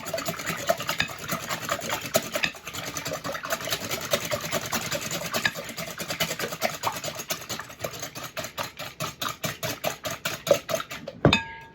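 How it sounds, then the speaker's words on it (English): Eggs whisked by hand in a bowl for a grain-free bagel batter, a steady fast run of scraping, rattling strokes heard up close with no talk, speeding into sharper rhythmic beats near the end. "Alright, and we're going to whisk"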